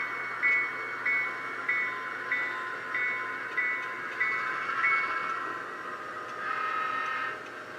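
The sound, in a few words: passing train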